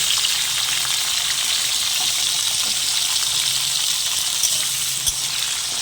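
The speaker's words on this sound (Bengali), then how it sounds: "তেলের মধ্যে আমি কুঁদরিগুলো ভেজে নেব।" Ivy gourd (kundri) frying in hot oil, a loud, continuous hissing sizzle that stays even from start to finish, with a couple of faint clicks late on.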